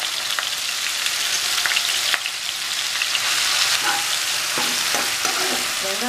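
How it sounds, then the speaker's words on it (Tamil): Onion paste sizzles and spits in hot oil with cumin while a utensil stirs and scrapes the pan, cooking paneer masala. "சீரகம் கொஞ்சம் பொரிஞ்ச உடனே வெங்காயம் சேர்த்துக்கலாம்."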